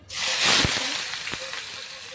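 Finely chopped onion hits hot oil in a pan, giving a loud, close burst of sizzling that stays as a steady crackling fry with a few stirring clatters.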